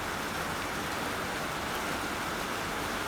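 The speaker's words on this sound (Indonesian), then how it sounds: "Hujan jadi susah membuat video." Steady rain falls throughout, a dense even hiss that is loud and close, with no voices or other sounds.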